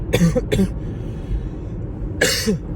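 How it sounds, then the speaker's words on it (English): Three separate coughs, close and fairly loud, the first two in quick succession, then a pause with low background noise before a final harsher cough. "I'm sorry for coughing."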